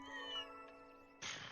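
Cats meowing in the video game Trails through Daybreak 2, a drawn-out mewing cry followed by a bright chime-like sound, fairly quiet and heard alone.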